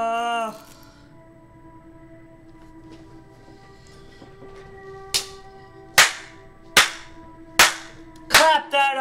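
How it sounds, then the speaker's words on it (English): Several sharp hand claps in quick succession toward the end, applause inside a horror game demo set in a mortuary, sounding close and loud over a steady low background hum. "Clap that up, everybody!"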